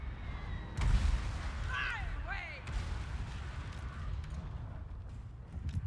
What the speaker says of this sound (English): I don't like these guys up here shooting us, though.